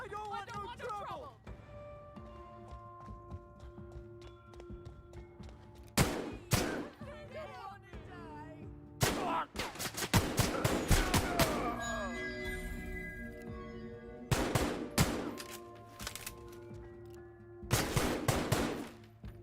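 Gunfire in The Outer Worlds video game. Loud, sharp bursts of shots come in separate volleys, with a longer rapid string in the middle, over a sustained tonal background score.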